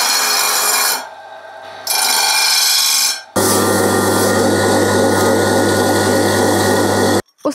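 A freshly cast bell is trimmed and smoothed with a loud power tool, a harsh grinding whine with a steady low hum, cutting out briefly twice before running on and stopping abruptly.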